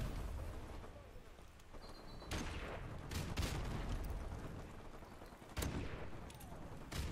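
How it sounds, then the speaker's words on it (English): Gunfire crackles in the Modern Warfare Remastered shooter, a steady wash of battle noise broken by several sharp, louder shot bursts at irregular moments. "What is that guy shooting at?"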